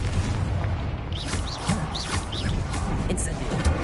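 In the video game Hogwarts Legacy, a Confringo explosive spell goes off as a loud, continuous blast with a deep rumble, over which short chirping and whooshing effects rise and fall.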